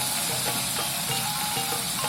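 Chili sambal with petai being stirred in a pan right after coconut milk goes in, a steady close sizzle and bubbling with soft scraping strokes running throughout.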